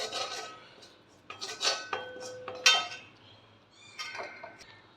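A spoon clinks and scrapes against a metal pan as maida flour is stirred in for white sauce, giving several close, uneven metallic taps and scrapes with short pauses between them.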